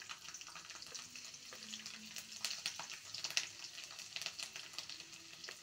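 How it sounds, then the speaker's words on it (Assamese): Garlic frying in oil in a kadai gives a steady, fairly faint sizzle with scattered crackles and a few soft stirring clicks, and no one speaks. "এয়া মই কেৰাহীত তেল দি দিছোঁ। এয়া ৰহুনখিনি দি দিলোঁ আগতে।"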